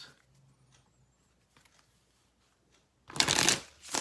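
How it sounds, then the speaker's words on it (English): Tarot cards shuffled in a loud, dense burst of riffling that starts near the three-second mark after near silence, then fades briefly before picking up again at the end. "Let me just shuffle this a bit more."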